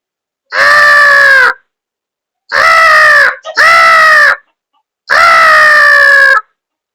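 A man imitates a small crow with four long, drawn-out nasal caws, loud and close, each separated by a short pause.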